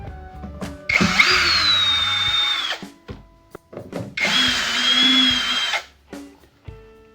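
A power screwdriver backs screws out of the rear panel of an active speaker. Two loud whirring bursts of about two seconds each are separated by clicks and handling knocks.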